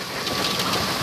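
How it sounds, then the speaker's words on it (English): Small pea-sized hail falls during a thunderstorm near Hermosa, a dense, steady hiss and patter of many small stones striking surfaces close by, with no voices. "We have small pea-sized hail."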